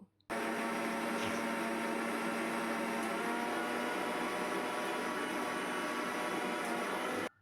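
A mixer grinder blends white mustard seeds into a fine paste, starting abruptly into a loud, steady, whirring motor roar that runs evenly without pause and then cuts off at the end.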